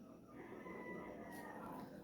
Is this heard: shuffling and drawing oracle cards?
no